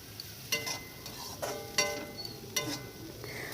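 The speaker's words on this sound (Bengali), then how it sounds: "লঙ্কার গুঁড়ো দিয়ে ভালো করে নেড়ে নিতে হবে" Chilli powder and spices fry in a pan while a spatula stirs them in several distinct scraping strokes over a soft, steady sizzle.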